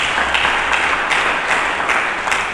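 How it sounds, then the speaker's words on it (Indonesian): Church congregation applauding during a sermon, a dense, steady wash of many hands clapping that fills the room, loud and sustained with faint pulses in intensity. "Mari kita berikan tepuk tangan yang meriah."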